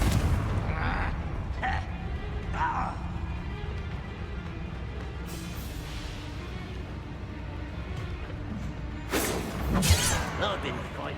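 A Confringo blasting spell goes off in a Hogwarts video game: several short impacts, then a loud broadband explosion burst near the end, with a voice and game ambience underneath.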